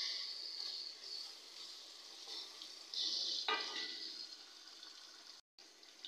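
Beef chunks dropped into a cooked-down spice paste in a hot pan, giving a steady broadband sizzle and fry hiss that surges louder partway through, then settles, with no voices.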